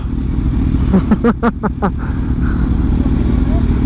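Motorcycle engine roar of a 2015 Kawasaki Ninja H2 dominates, close and loud, with wind rush and brief rising and falling revs; a voice is briefly audible beneath the engine noise.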